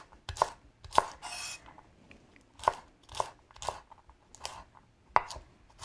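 A knife chops herb stems on a cutting board in about eight crisp, separate thuds at an uneven rhythm. Each stroke lands close and sharp, with quiet pauses between strokes and no talking.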